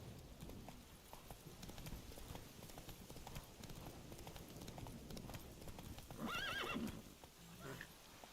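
Roach the horse in Witcher 3 gallops with rapid, rhythmic hoofbeats throughout, and a loud neigh breaks out partway through over the steady clip-clop.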